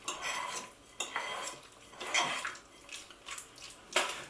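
A spoon stirs butter beans with yoghurt and mayonnaise in a bowl, making quiet, irregular clinks and soft wet scraping sounds at close range with no voices.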